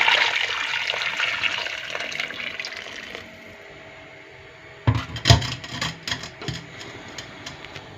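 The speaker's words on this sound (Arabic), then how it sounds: "وهنا الماء تاعي ها هو غلا، نصبه على دون الخمر" Freshly boiled water pours steadily into a cooking pot during home meal preparation, a continuous splashing rush that gives way to softer clinks and knocks of kitchenware.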